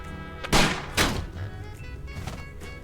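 Two sharp gunshot blasts in the Sam and Max Save the World game, about half a second apart, loud and close with brief ringing tails, followed by quieter ambient background.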